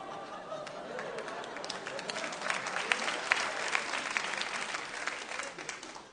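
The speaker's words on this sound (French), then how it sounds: "C'est vous qui applaudissez, hein?" An audience bursts into sustained applause, many hands clapping in a dense, lively patter that swells a little midway, heard at moderate distance.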